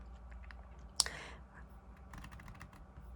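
A single sharp click as the caps lock key is pressed on an iPad keyboard, one brief tap over a quiet room hum, with faint softer clicks following.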